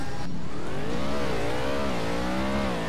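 Car engine in the Roblox Driving Empire racing game revs with steady, rising and falling harmonic tones, loud and continuous throughout with a faint whir beneath.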